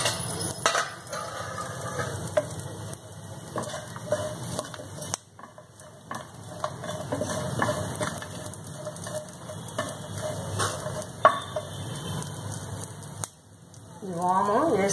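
Carom seeds (ajwain) frying in a pan on low heat, a faint crackle and patter with occasional scraping as they are stirred, heard beneath a person speaking.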